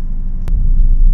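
Chevrolet Camaro engine rumbling on a track in Seattle, a steady low drone that holds at a constant level throughout, with one brief sharp click partway through and no voices.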